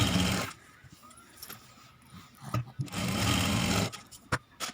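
A sewing machine stitches the shoulder seams of a blouse in two rapid whirring bursts separated by a quieter pause, close and clear, with faint background voice in between.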